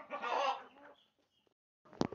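Crossbred hens and a Label Rouge rooster on a free-range farm cluck close by: a drawn-out, throaty cluck, a short quiet gap, then a sharp burst of clucking at the end.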